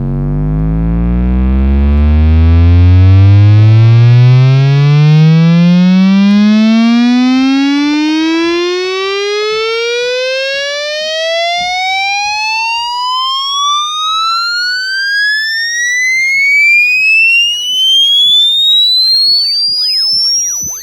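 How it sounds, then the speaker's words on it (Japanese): Synthesizer tone rising in a long upward pitch sweep, rendered without oversampling so aliasing noise appears as stray tones bending downward against the climb; loud, steady and alone for about twenty seconds. "まずはオーバーサンプリングなしの音です。"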